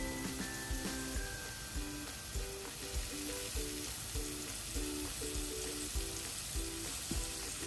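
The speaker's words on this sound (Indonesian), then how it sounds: "Kita bakar kembali sampai benar-benar matang." Seasoned frozen food sizzles on a grill, with a soft continuous hiss and a rhythmic pattern of repeated clicks and taps running through it at low volume.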